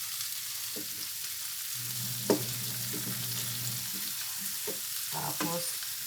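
Shrimp and snow peas stir-fry in garlic butter in a pan with a soft, constant sizzle. Spatula scrapes and clinks come at irregular moments, and a low hum runs under part of the cooking.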